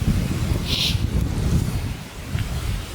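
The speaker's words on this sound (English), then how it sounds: "Whoa, that's windy." Strong wind roars across the microphone outdoors at an abandoned homestead on Tumbo Island, in steady low gusts, with a brief chirp-like sound early on.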